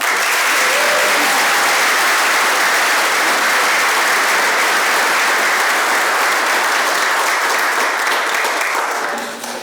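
Sustained, loud applause from a hall of fame ceremony audience honoring athletic inductees, a dense steady wash of clapping that fills the room and tapers slightly at the very end.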